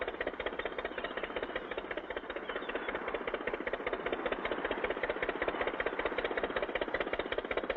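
A small boat's engine chugs along underway at sea, a steady, rapidly pulsing, rattly mid-pitched motor running at constant speed throughout.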